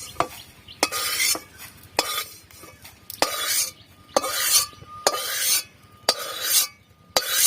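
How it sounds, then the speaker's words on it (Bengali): Dry whole spices (coriander seed, cumin, fennel and dried red chillies) being stirred in a wok with no oil, giving repeated loud scraping and rattling strokes with sharp metallic clinks of the spatula against the pan, close up and without speech. "এখন আমি ভাজা মশলা বানানোর জন্য ধনেটা দিয়ে দেবো কড়াইতে"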